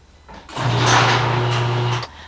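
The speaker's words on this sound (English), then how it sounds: "I'm gonna open the garage door to get some light." A garage door rolls open in a home workshop during a platform bed build, a steady mechanical rumble with a low motor hum lasting about a second and a half, loud and close with no talk.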